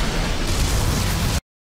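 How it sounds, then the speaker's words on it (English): Missile barrage explosions from an Armored Core 6 story trailer: a loud, dense roar of blasts with strong low rumble, sustained for about a second and a half before cutting off abruptly to silence. "Long-range guy launches his missile barrage to start the offense."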